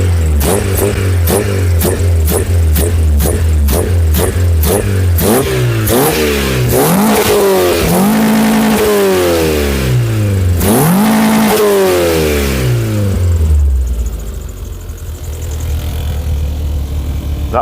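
A Skoda 120 16V car engine revving close up and loud, a quick burst of throttle blips rising and falling, then longer sweeping revs before it settles back to a rough idle, with no one talking.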